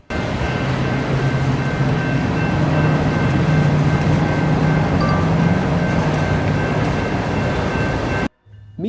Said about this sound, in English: our Michigan Shore train shoves back into the Waverly Yard and begins to do its yard work.